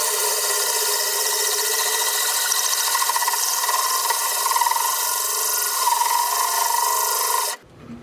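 A drill bores steadily through aquarium glass, giving a continuous close grinding whine with a faint rhythmic wobble that stops abruptly near the end.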